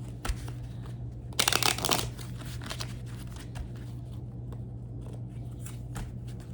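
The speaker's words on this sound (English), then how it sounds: "Make a shuffle for a little bit here." Tarot cards riffle quickly in one brisk shuffle, followed by quieter rustling and handling against a steady low hum.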